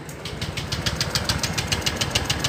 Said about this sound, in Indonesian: Saya akan coba dulu hidupkan. Di starter masih mau ya teman-teman ya